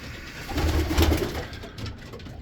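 Racing pigeons of the DeClack strain cooing close by, a soft, low, repeated coo that swells in the middle and fades again, with no talk.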